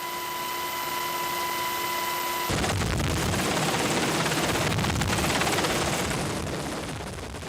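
A military helicopter flies during aerial rescue training on a gusty day, its loud rotor chop throbbing steadily and close, the rhythmic thumping filling the scene after an abrupt cut from a tonal whine.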